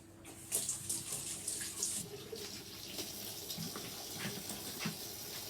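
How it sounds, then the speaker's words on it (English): Hands being washed under a running tap while baking a lemon cheesecake, a steady splashing rush of water with brief louder spatters near the start, continuing alone at close range. "I'll have to wash my hands again"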